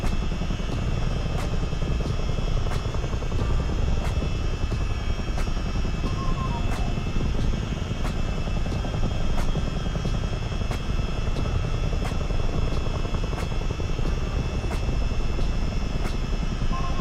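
A CH-47 Chinook helicopter in Microsoft Flight Simulator gives a continuous rotor roar with regular rhythmic blade thumps, steady and moderately loud, with no voices.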